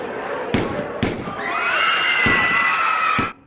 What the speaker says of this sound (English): we hear that gunshots followed by screaming